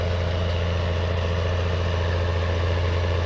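A tractor engine labors while towing a cultivator up a slight incline in Farming Simulator, a loud, steady low diesel rumble with a constant throbbing drone and no breaks.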